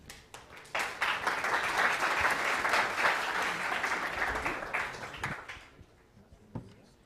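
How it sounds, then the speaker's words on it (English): An audience applauds as a startup team is welcomed onstage at a pitch competition. The clapping swells quickly to a full, sustained roar for several seconds, then thins into scattered claps before dying out. "please join me in a round of applause and welcoming Dart to the stage."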